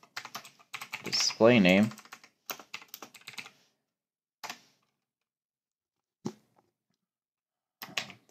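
Typing on a computer keyboard, short bursts of close, light key clicks separated by pauses, with a person speaking briefly over the first part.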